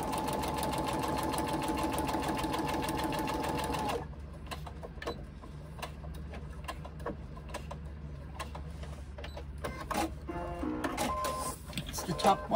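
A sewing machine runs steadily, stitching a 3/8 inch seam, with a dense rapid mechanical whir for several seconds, then stops and gives way to small handling clicks and a brief restart of lighter stitching near the end.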